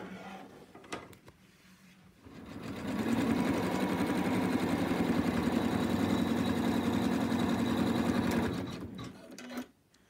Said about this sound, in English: we're going to stitch a little bit around